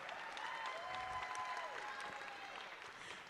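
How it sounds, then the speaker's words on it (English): A school district convocation crowd applauds and cheers, a steady wash of clapping with a few whoops and a whistle over a distant, faint hall. "So you guys make some noise so Pinnacle View know you're in the house celebrating today"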